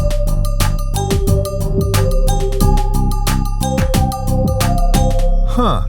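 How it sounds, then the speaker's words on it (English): Bright, metallic synthetic chimes strike in a fast, steady rhythm over a thick, constant low drone, loud and busy throughout. "It sounds like this part is playing bells"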